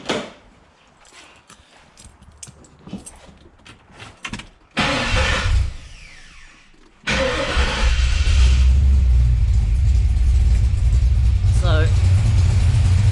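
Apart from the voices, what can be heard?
Ford XE Falcon car engine starting and idling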